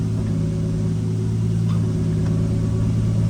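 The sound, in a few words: Nissan S14 with 2JZ turbo engine, faulty clutch disc noise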